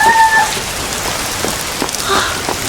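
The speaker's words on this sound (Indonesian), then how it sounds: "hujan turun." Steady rain pours down with a dense, even hiss and a few louder drops close by. Nothing else stands out.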